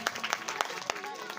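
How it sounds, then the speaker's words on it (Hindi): Scattered claps from an audience at a Shrimad Devi Bhagwat Mahapuran katha gathering in Kadvaliya, a few sharp separate hand claps rising over a busy crowd murmur and voices. "एक बार फिर ताली का सेवा।"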